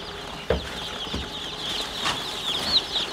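Bresse chickens on a poultry farm, a flock of young birds starting out, cluck and call softly in a steady background murmur, with a couple of brief nearby knocks and rustles.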